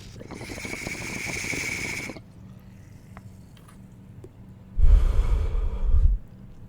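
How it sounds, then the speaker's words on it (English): A long, hissing inhale through a water pipe, a quiet pause, then a louder burst of low, churning bubbling. "I'm gonna take a bong rip for the boys right now"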